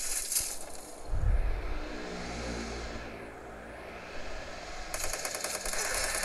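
Bursts of rapid gunfire crackle in short volleys over a low engine drone in a mobile game on a Sharp Aquos R1 phone, with rattling shots at the start and again near the end.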